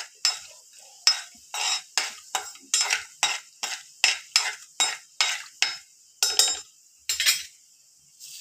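Bay leaf, black cardamom, cumin seeds and cloves are fried in a pan while being stirred. About fourteen crisp scraping strokes land in an even rhythm over a light sizzle, close and clear, with no voices.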